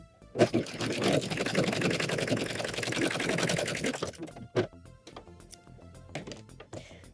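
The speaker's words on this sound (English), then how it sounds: "When I start serging this, I'm actually going to serge on an angle" Serger stitching the end of a swimsuit tie on an angle, a fast rattling machine run lasting about four seconds, followed by scattered clicks and handling noises.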